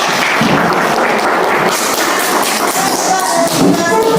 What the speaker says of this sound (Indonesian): Kita beri tepuk dulu untuk Latifah